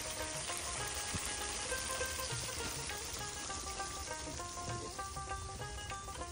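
Baim fish pieces frying in oil with onion and chili at a fishermen's outdoor cooking spot, giving a soft, steady sizzle with scattered crackles at moderate distance.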